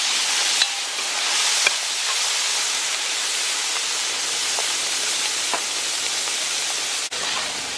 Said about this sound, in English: And the oil is nice and hot. So in goes the prepared salted cod.